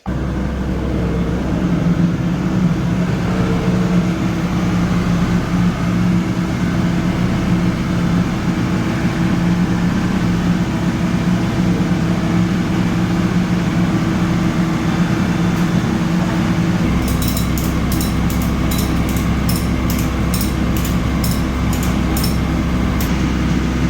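A skid loader's diesel engine drones loud and steady nearby while pulling a Silverado truck body out during a rebuild, joined by a rattling metallic clatter partway through.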